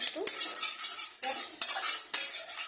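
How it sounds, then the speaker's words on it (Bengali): Dried red chillies and chopped garlic tempering in hot oil in a pan for a vegetable and masoor dal dish, heard as bright crackling sizzle broken by three or four sharp utensil clinks and stirring scrapes, close and moderately loud, with no talking. "তো তেল গরম হয়ে গেছে, আমি এখানে শুকনো লঙ্কা ফোড়ন দিয়ে দিলাম।"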